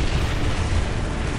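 Continuous low rumbling blast noise from a cannon in the Warhammer 40K Dawn of War video game, a dense, steady boom filling the short moment with no clear break or pause.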